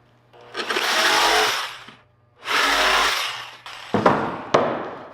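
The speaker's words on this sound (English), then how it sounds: "you're going to grab your jigsaw." Jigsaw cutting through a cedar board for the bottom of a planter box, heard as two sustained loud buzzing cuts separated by a short pause, then a few brief bursts, close to the microphone with no talking.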